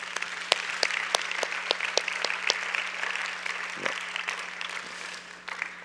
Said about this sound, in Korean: 수고해 주신 우리 3명의 형제들에게 다시 한번 박수 보내드리죠.